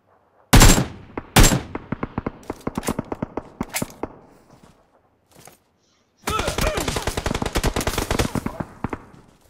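Gunfire in PUBG Mobile: two sharp loud shots, then rapid automatic bursts, a pause, and a long dense stream of close fire.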